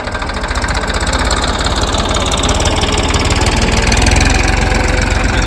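A tractor engine runs steadily in a castor field, a loud, close, continuous throbbing idle with a rapid knocking pulse and no break throughout.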